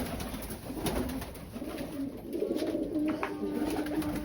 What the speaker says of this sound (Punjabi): ਆ ਦੇਖੋ ਕਬੂਤਰ